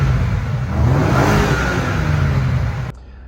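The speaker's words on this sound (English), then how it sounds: "some people complain about the exhaust noise because it honestly does not sound well" A BMW M5 Touring V8 revs hard and loud, holding a deep throaty exhaust roar for a few seconds before cutting off abruptly.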